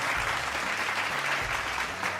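Studio audience applause during a Ramzan quiz show for a blind community, thick continuous clapping at steady loudness, with a low hum underneath.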